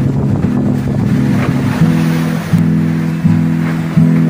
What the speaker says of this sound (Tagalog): at ganito malakas ang hangin